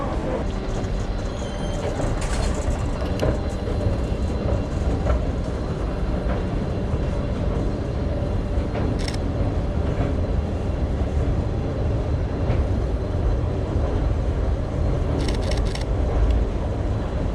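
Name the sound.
metro station ambience with trains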